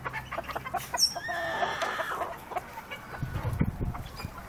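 A fighting rooster clucks and makes short throaty calls nearby, among rustling and other farmyard noise.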